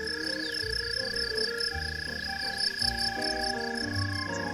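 Crickets or grasshoppers chirp by rubbing their forewings together on a summer night, making a steady, dense, high-pitched trilling chorus with pulsing rhythm that continues throughout, alone and without speech.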